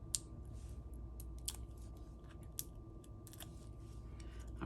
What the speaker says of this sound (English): I'm gonna have to trim that ribbon down.